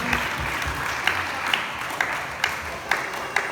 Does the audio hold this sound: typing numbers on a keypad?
no